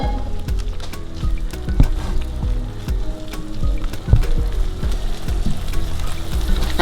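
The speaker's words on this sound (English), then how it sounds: "I'm gonna let the onions cook down because I really do not want to see the onions sticking out in it" Onions frying in melted butter in a pan for an Alaskan cod with creamy corn dish, giving a steady close sizzle with scattered crackles and pops throughout.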